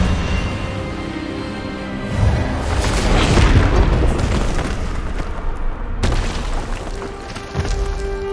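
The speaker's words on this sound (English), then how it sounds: "Expelliarmus!" Spell impact in a Hogwarts Legacy duel: a loud, sustained magical burst that swells into a booming, explosive roar lasting several seconds, then fades before a second sharp blast hits near the end.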